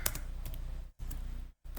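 Computer keyboard keys clatter as C++ code is typed, a quick run of close, light clicks broken by two short pauses.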